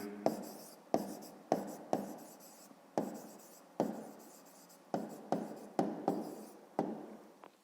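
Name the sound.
writing down the answer by hand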